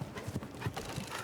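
Horse hooves strike the ground in a quick clip-clop rhythm as a show jumper moves around the course at the 2019 RBC Grand Prix of Canada, several muffled thuds close together over a steady low background.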